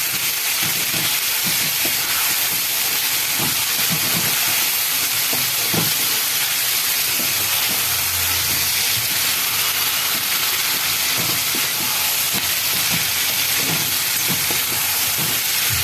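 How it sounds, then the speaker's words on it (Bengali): Chicken with spices sizzles loudly and steadily in a hot pan, a continuous frying hiss broken by faint clinks and stirring. "এবার সবগুলো এবার একসাথে কষাচ্ছি।"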